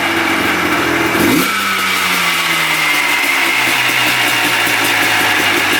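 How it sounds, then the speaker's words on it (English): A quad ATV engine is revved high, then its pitch sags slowly and lingers well above idle, a steady loud mechanical drone with no talking. "But when you rev it up, it kind of hangs high."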